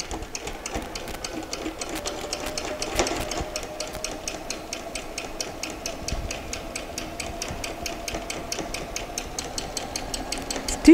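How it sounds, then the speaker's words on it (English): Sewing machine reverse stitching at the start of a pocket mouth on a pair of shorts, a rapid even needle clatter running steadily and fairly close, with no talking. "Start by reverse stitching."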